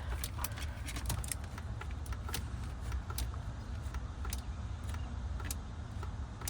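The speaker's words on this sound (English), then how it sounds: "Oh, I hear it clicking." Repeated sharp clicks from an old 1989 Pontiac Trans Am GTA that has sat unregistered for 17 years, an irregular series of faint ticks over low engine-bay rumble and background noise.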